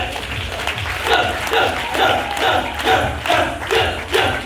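An audience at a recognition program in Karukutty Hall claps a rhythmic 'train clap' in a steady, rolling rhythm, with regular surges of applause repeating about every half second over a crowd murmur.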